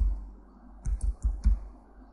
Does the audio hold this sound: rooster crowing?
no